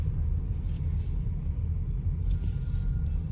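Mahindra XEV 9E electric car driving through city traffic, a low steady road rumble inside the cabin with faint passing traffic, no engine note.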